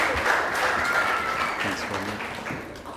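Audience applause at a book launch for Dr John Warlow and Hannah, steady continuous clapping from a room of people that holds even throughout and tapers slightly near the end.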